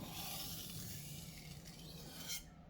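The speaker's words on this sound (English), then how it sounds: "I'm just going to do a few quick strops on the stone, and that should remove the burr" A knife blade is stropped on a sharpening stone to remove the burr, a few soft, quick rasping strokes sliding close and quiet with no talk.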